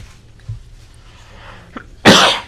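A single loud, close sneeze in a courtroom during a murder trial, a sharp burst that follows a quiet room with faint small noises.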